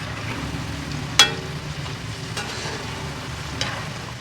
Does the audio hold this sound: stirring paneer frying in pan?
yes